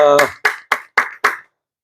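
At a Sunday church service, a voice ends a phrase, then four loud, evenly spaced claps from the congregation ring out in a steady rhythm before fading to silence.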